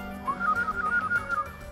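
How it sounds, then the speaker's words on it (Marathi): A person whistles a short, lilting melody of quick clear notes that rise and fall, close and alone with no talk. "ते उत्तम शिट्टी वाजवतात."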